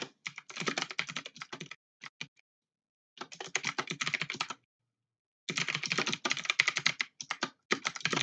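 Fast clattering typing on a computer keyboard during a live game-design session in Godot, in three bursts of rapid keystrokes separated by short silences, close and with no talking.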